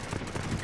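Dense gunfire from Call of Duty Warzone crackles in a rapid, continuous burst, loud and close, with no talking.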